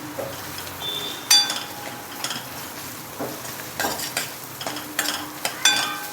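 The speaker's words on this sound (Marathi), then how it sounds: "आता ही आपली चांगली परतून झालेली आहे जिरं, मोहरी" Cumin and mustard seeds spluttering in hot oil for a tempering, with a continuous sizzle broken by clinks and scrapes of a spoon against the pan, close and without any voices.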